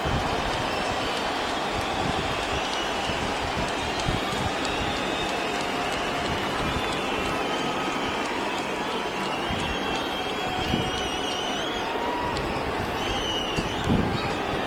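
A dense, steady roar from a UFC arena crowd in Ottawa runs throughout, broad and continuous, with a few scattered louder swells near the end.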